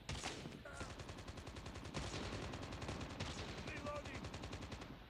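Rapid automatic gunfire from the video game Call of Duty Mobile, continuous machine-gun-like bursts at moderate volume, with a short voice or game sound breaking through.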